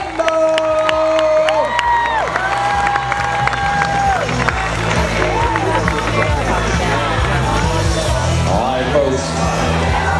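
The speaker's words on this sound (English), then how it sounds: "Big round of applause for all your veterans in the snatch ladder." Crowd at a CrossFit Games regional competition applauding and cheering veterans in a snatch ladder event, a loud sustained roar with shouts mixed in, under loud music and a public-address voice.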